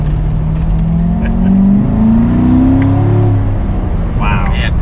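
A Chevrolet Corvette C7 sports exhaust roars through an acceleration, engine note rising steadily and loud from inside the car, with people talking over it.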